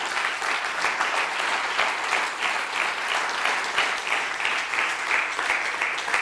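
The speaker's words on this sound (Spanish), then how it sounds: "Dele una ofrenda de palmas." A congregation at a Spanish-language church service claps and cheers steadily, dense close applause running unbroken throughout with no talk over it.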